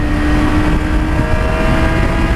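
A motorcycle engine at a high, steady drone as the throttle is cut, loud and close throughout the short stretch with no talking.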